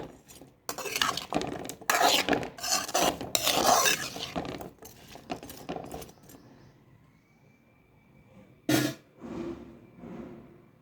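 Potato pieces stirred in hot oil with ginger-garlic paste and tempering spices, a run of scraping, clinking spoon strokes against the pan for several seconds, then quieter sizzling with a few later scrapes.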